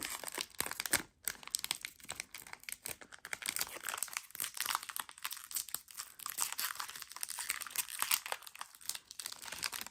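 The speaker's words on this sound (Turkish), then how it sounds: "düzgünce açalım önce paketimizi." Wrapper of a K-pop collection card pack torn open, giving close, continuous crinkling and tearing of plastic foil for several seconds with no talk.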